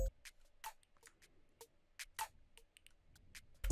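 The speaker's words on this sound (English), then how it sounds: "I grabbed this background hi-hat loop, which sounds really sick" Hyperpop drum-kit hi-hat loop at low volume, sparse crisp ticks in an irregular pattern, faint and alone in the background.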